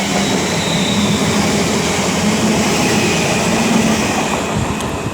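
A London Northwestern Railway double-unit train at Milton Keynes Central on the West Coast Main Line, a steady loud rumble of wheels and running gear that holds through the whole stretch with no gaps, with no voices.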